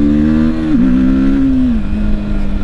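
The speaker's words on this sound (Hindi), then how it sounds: "तो इनिशियल पिकअप बहुत अच्छा मिल जाता है आपको" Engine of a 2024 TVS Apache RTR 310 motorcycle revving loud and close, a strong steady drone that dips briefly as the pitch shifts, then settles into a sustained hum.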